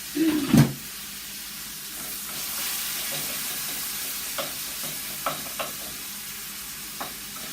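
Tomatoes go into a pan of frying onions for chicken curry, with a short clatter of stirring at first, then a steady sizzle and hiss broken by a few soft ticks.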